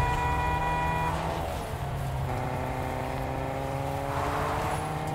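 A car engine in the video game Fortnite revs steadily while repeated horn honks sound over it, the tones bending as the vehicle shifts speed, with no talking.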